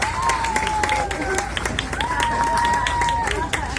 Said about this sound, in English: let's give a round of applause for music executive Mike Concepcion